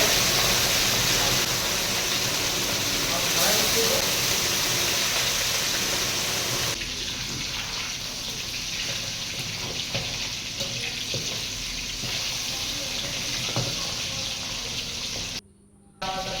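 Lote fish (Bombay duck) fries in oil in a kadai at a seaside spot in Digha, a steady loud sizzle and hiss running on without a break before a short cutoff near the end.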